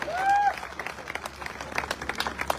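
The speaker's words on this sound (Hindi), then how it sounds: "अरे ताली बजा दो, बहुत मेहनत करके बनाया है।" A crowd at a sales seminar in Chandigarh breaks into brief, scattered clapping for a couple of seconds, with a voice briefly heard at the start.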